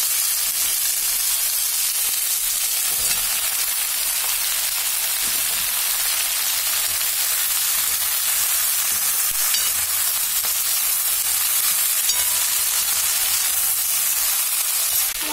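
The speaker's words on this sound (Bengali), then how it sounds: "শিমের সাথে সাথে পুঁই বীজটাও দিয়ে ভাজব।" Flat beans and Malabar spinach seeds fry in a pan, a steady, close, broadband sizzle that holds evenly for the whole stretch without pauses or voices.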